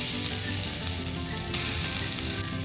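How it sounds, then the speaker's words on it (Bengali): Onions and crushed spices fry in a pan with a close, steady sizzle and crackle, with faint stirring and no talking. "পেঁয়াজটা এখানে খুব ভালো করে ভাজা ভাজা হয়ে গেছে"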